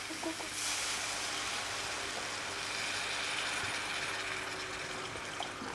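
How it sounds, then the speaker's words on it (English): Red wine hits a hot pan of onions and garlic for a wild boar ragu and bubbles up, a loud steady sizzling hiss that holds for several seconds with faint kitchen clatter. "when the wine hits the bottom of that, it bubbles up straight away"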